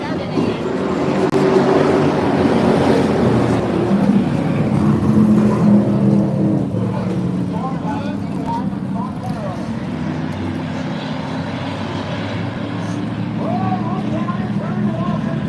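Race cars roar around Oxford Plains Speedway just after the green flag, a steady loud wash of engines with rising and falling passes while a voice talks over it.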